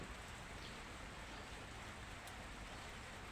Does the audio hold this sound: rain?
yes